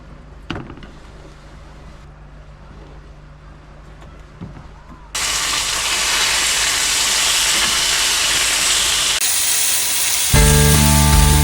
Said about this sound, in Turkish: Şu bitenki tavuktan bir kızartayım bakayım.